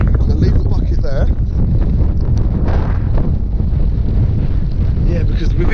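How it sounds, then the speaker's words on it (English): Strong wind blows across a fishing lake, a loud continuous roar buffeting the microphone, while someone talks over it. "with this wind coming in and everything, you can see how windy it is"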